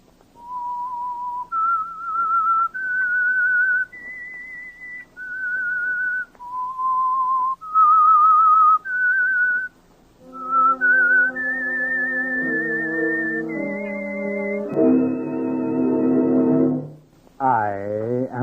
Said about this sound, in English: That whistle, the Whistler.